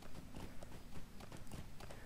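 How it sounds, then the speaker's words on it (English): Horse hooves clip-clop at a steady walking rhythm in the video game Lord of the Rings Online, where a gray horse is ridden. Repeated close, moderately loud hoof strikes sound alone, with no talking. "that's about as close as I'm going to get to a gray horse for a while"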